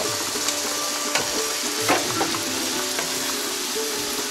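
Poppy seed paste and tomato frying together in a pan for an Odia potato curry, a steady close sizzle and crackle with a few soft stirring scrapes and no talking.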